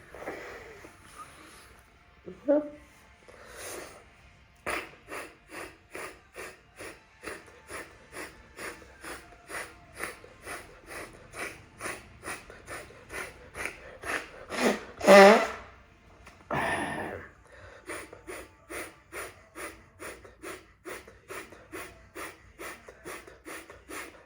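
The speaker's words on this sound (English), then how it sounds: "So as you breathe out, push your belly button in." Rapid, forceful exhalations during pranayama breathing practice, each pushed out by drawing the belly in, repeating in a steady rhythm of around twenty close puffs, paused briefly by a few louder, slower breaths.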